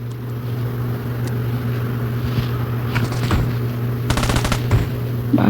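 Gunfire in a shooting video game, short bursts of rapid automatic shots over a constant loud engine-like drone, with scattered single cracks near the end.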